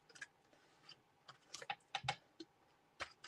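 Adhesive tape is torn in quick, scratchy bursts while an envelope is assembled with a craft stamp set, in close, uneven snaps and rips, alone without speech.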